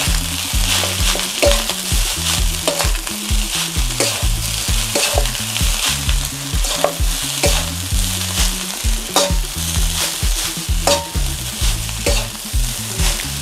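Red fried rice for beef pares sizzling loudly in a pan as it is stirred, with a steady run of sharp spatula scrapes and taps over continuous frying noise and background music.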